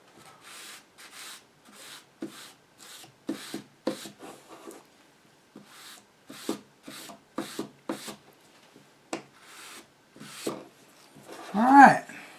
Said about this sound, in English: I'm going to take some 1000 grit sandpaper, and I'm going to lightly scuff over the top of it